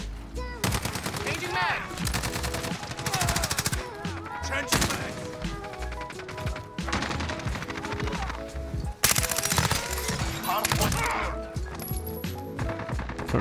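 Rapid automatic gunfire from a low-recoil weapon in the Modern Warfare video game, sustained loud bursts layered over game music and effects.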